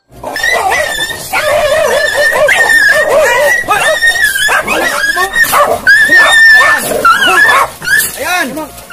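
Several dogs bark and yip excitedly in quick bursts throughout, close by, mixed with people talking loudly over them.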